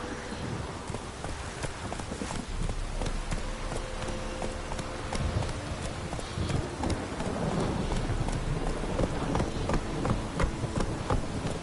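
A horse gallops along in The Witcher 3: Wild Hunt on PS4, rapid hoofbeats sounding steadily and fairly close against a dense bed of outdoor ambience and game noise.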